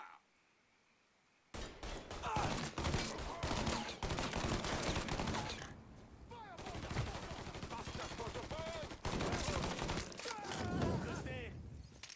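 Rapid bursts of gunfire during target practice in Mafia III, sustained automatic shots and fusillades after a quiet start, with voices shouting over the firing.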